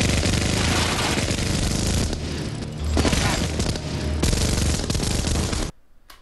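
Gunfire in an action film scene of Arnold shooting people, with dense, continuous machine-gun bursts and booming shots roaring loudly for several seconds before cutting off abruptly.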